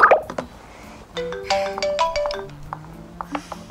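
A mobile phone ringtone plays a bright electronic melody of short tonal notes in a steady rhythm, fairly close and clear, with no one talking over it.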